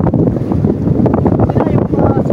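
Strong coastal wind buffets the microphone at Calauag, Quezon, producing loud, continuous rumbling gusts that fill the whole stretch, with faint voices beneath.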